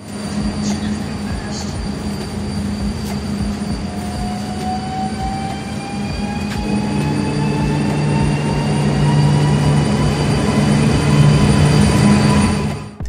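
A Warsaw tram rolling on its tracks, with a steady rumble of wheels, drawn-out squeals from the rails and short clicks, growing louder toward the end before stopping abruptly.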